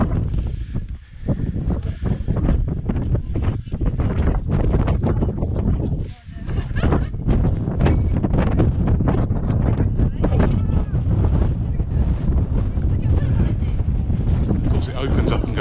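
Strong gusty wind on an exposed stretch of Snowdon, buffeting the microphone loudly and almost continuously, with brief dips in the roar.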